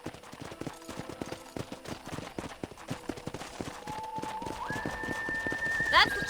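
Horses' hooves clip-clop steadily near a corral in Red Dead Redemption, a regular rhythmic clatter running throughout, with a rising tonal game sound near the end.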